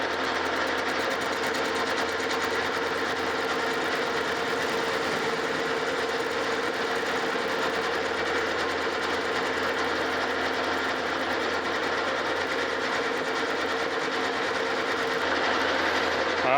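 Lathe taking a rough cutting pass across a welded-up journal of a cane mill roller, a steady, fairly quiet mechanical whir and hum running continuously without a break.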